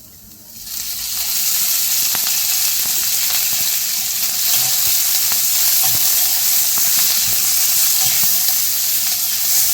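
Onion fries in a pan for misal as oil is added, and a sudden loud sizzle swells within a second and then holds as a steady, close, intense frying hiss.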